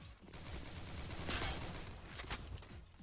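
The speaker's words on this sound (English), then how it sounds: "Stilico already with the wall bang" Counter-Strike gunfire fired through a wall, a short burst of sharp shots with a couple of louder cracks among faint background game noise, fairly quiet overall.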